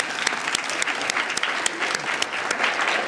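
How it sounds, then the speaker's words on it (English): Crowd applause at a Martin Luther King Day of service celebration in Fitchburg, Massachusetts: dense, lively clapping with sharp individual claps standing out, loud and continuous throughout. "So give them a great big round of applause."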